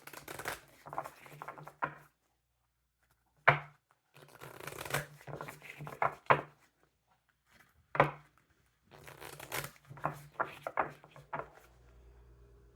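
Tarot cards are shuffled in several quick riffling bursts separated by pauses, close and crisp.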